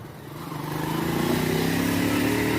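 Cars drive past on the road at the exit of Boa Vista toward Manaus, a steady moderate traffic rumble that swells as a vehicle approaches and holds near the listener with no speech.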